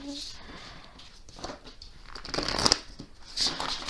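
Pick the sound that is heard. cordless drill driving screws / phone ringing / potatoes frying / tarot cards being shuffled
tarot cards being shuffled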